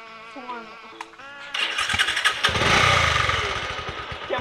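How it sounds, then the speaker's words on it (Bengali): A motorbike engine sputters and catches after a stretch of quiet voices, then revs loudly and steadily as it runs, close by, with people talking before it starts. "বাইক স্টার্ট নিবো দাঁড়া"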